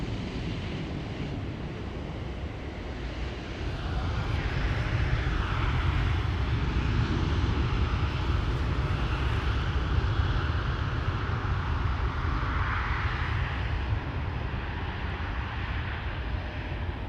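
An airplane departs Amsterdam Schiphol Airport at night, its engine roar building from a distant rumble into a loud, sustained broadband thunder with wind noise, no voices.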